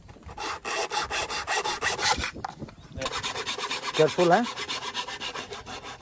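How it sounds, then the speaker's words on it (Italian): Bamboo being hand-sawn for the body of a Ravanatta, a Rajasthani bowed string instrument, with steady rasping back-and-forth strokes, a short pause near the middle, and a brief squeaky whine partway through; a voice speaks briefly. "Stiamo tagliando il bambù, che sarà il corpo principale dello strumento."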